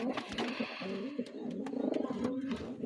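Pigeons in a loft cooing softly in repeated low rolling calls, with faint scattered clicks and rustles around them and no voices.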